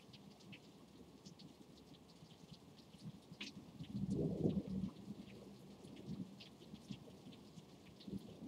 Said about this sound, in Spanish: espero que estén escuchando los truenos y la lluvia bellísima como cae